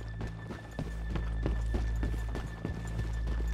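Horse hooves clip-clopping at a steady walking rhythm in Red Dead Redemption 2, close and distinct over a constant low game ambience with no talk.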